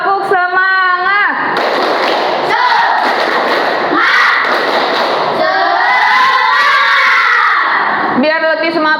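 Classroom of fifth-grade children at an Indonesian school performing a loud rhythmic clapping chant, with sharp group claps and shouted voices in unison, close and energetic throughout, while a teacher's voice is heard briefly at the start and end.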